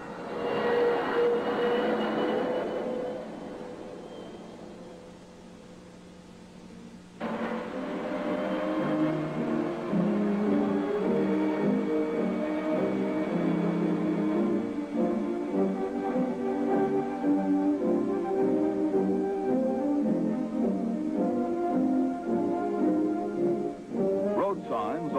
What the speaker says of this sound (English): Our air-cooled turbo dart kicks right off and pulls out to lead the way to the coast.